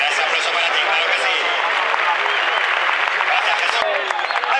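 Continuous crowd applause in a Valencia bullring during a recortes contest with wild bulls, broad and steady clapping from the stands with scattered voices mixed in.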